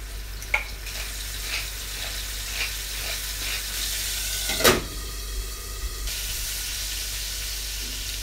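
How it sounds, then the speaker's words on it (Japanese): Scallops fry in olive oil in a frying pan, giving a steady sizzling hiss with occasional small pops and one sharp clack. "フライパンにオリーブオイルを敷いたらそこにホタテを並べて熱していきます"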